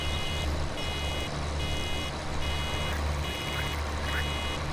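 Vehicle reversing beeps in the farming video game Farming Simulator 2017, a steady repeating electronic beep over a constant low machine engine hum, with no talking.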